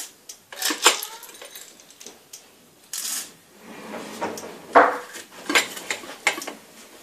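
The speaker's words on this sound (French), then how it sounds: "Je mets 2 cuillères de pois chiches indiens, de chana dal" Spoonfuls of chana dal, split Indian chickpeas, go into a pan for a mint and coriander chutney, with a run of close metallic spoon clinks and scrapes, several sharp taps and faint rattling in between.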